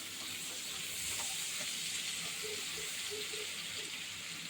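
Chopped onions sizzle and hiss steadily in hot oil in a pan, a constant close frying sound with occasional soft stirring clinks and no talking.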